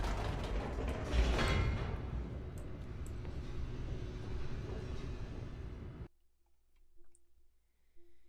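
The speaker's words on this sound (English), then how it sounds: "We're going down the creepy looking elevator." Creepy elevator descending in the video game The Stanley Parable: a steady mechanical rumble with creaks and clicks runs loud for about six seconds, then cuts off abruptly into near silence with faint low hum and small knocks.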